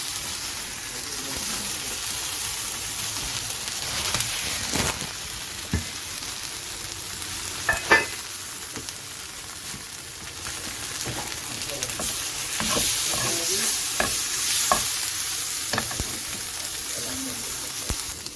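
Liver fries in a pan with a continuous close sizzle and hiss, broken by occasional sharper pops and the clatter of stirring, with no speech over it.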